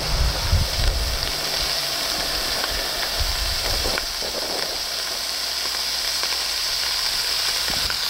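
Bacon sizzling and frying in a pan over a gas flame, a steady close hiss throughout with a few faint low pops and clatters near the start.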